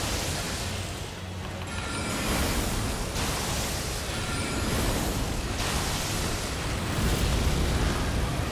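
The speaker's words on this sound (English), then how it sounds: "Explosion, but I'm far away." A distant explosion in the Elden Ring video game comes as a sustained loud roaring, rushing blast of broadband noise. It swells in waves over several seconds with no voices over it.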